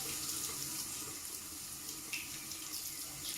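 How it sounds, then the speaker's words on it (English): A bathroom tap runs steadily into a sink, a continuous close hiss of water with no talk, while it is left on to warm up during an evening skincare routine. "Just waiting for the water to warm up."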